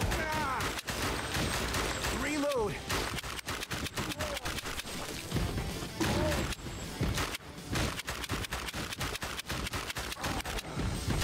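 Rapid light-gun shooting in The House of the Dead played in VR on a Quest headset, a loud, dense string of sharp shots and impacts with brief pauses between bursts, game voices and effects mixed in.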